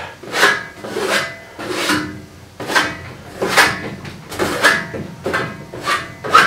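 Plaster spread across a wall with a trowel at a Hebrides croft, giving about nine close, rhythmic rasping scrapes, each stroke a short swell of rough friction, with no talking.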